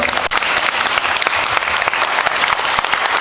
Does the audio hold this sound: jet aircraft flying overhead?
no